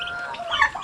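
Turkeys and chicks on a farm give a short burst of clucking and chirping calls, close and fairly loud, with several overlapping bird voices and no talk.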